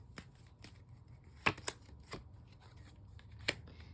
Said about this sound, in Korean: 마지막으로 여러분에게 필요한 조언 카드 뽑고 마무리할게요